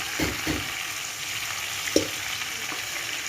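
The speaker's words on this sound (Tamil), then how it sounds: "கறியை போட்டு இந்த கறி வந்து இந்த எண்ணெயிலே கொஞ்சம் வதங்கட்டும்" Chicken curry meat frying in hot oil, a steady broadband sizzle running throughout with a few brief clinks and stirring knocks.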